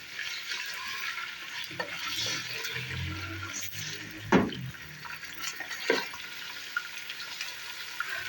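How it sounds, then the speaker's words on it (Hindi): Beef pieces, a kilo of meat for haleem, frying in a cup of oil and being stirred, with a steady sizzle and occasional louder scrapes and clatters of the spoon against the pot, close by and without talk. "अब मैं इसमें गोश्त डालूँगी, 1 किलो गोश्त है।"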